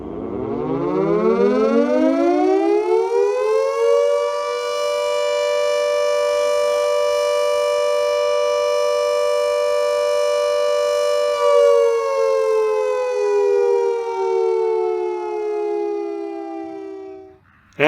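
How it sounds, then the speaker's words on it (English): A World War II air raid siren winds up from a low growl to a loud, steady wail, holds the tone, then starts to wind down near the end, with no voices present. "Many companies have also retained or obtained World War II sirens to alert local residents to emergencies"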